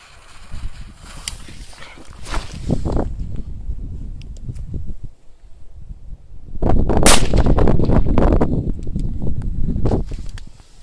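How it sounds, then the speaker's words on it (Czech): An Adrenalin firecracker with a hidden fuse goes off in two bursts of sharp, crackling blasts, the second louder and longer and trailing into rumbling echoes at close range, with no voices. "A dále je tu petarda Adrenalin."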